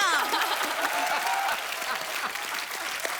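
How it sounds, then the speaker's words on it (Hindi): Studio audience applause on a comedy talk show taping, a dense wash of clapping that starts loud and eases slightly while continuing steadily to the end. "बहुत बहुत तालियां।"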